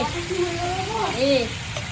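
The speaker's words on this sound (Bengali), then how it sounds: "তো এটা কষানো হোক তারপরে মশলাটা দেবো" Chicken chaap pieces sauté in a hot pan with a steady sizzle and crackle, a faint voice in the background.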